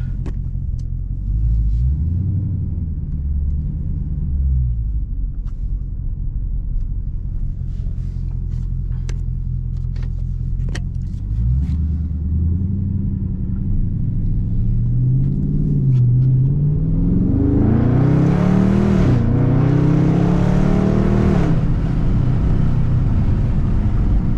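A Dodge Charger Daytona 392 idles with a deep, steady V8 rumble heard from inside the car, then builds to a louder revving surge as it pulls through a three-point turn.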